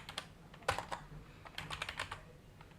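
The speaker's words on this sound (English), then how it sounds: "I can just type fruit" Typing on a computer keyboard during a Python coding session, with irregular bursts of close, crisp key clicks and a few louder keystrokes, heard alone without talk.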